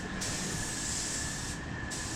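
A spray gun paints the hood of a Chevrolet S10 in a shop, giving a steady, close hiss of atomized paint that briefly dips once and then resumes, with no talking over it.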